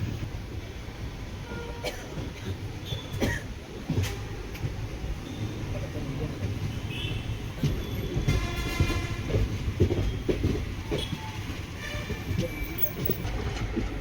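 Mangalore–Chennai Egmore Express rolling behind a diesel locomotive, a steady rumble of wheels and carriages with brief horn-like tones and clattering, continuous and moderately loud throughout.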